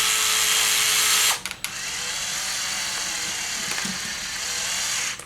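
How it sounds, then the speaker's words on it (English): A power driver runs screws back into the servo mount of a Traxxas Maxx V2 RC truck, making a close, continuous buzzing whir with a brief break partway through and no talking. "I'm going to put these screws right back in."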